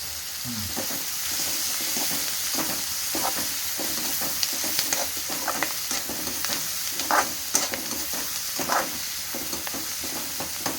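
Curry leaves frying in a pan for an egg curry, a constant oily sizzle broken by repeated scraping stirs with a spatula, close and fairly steady throughout.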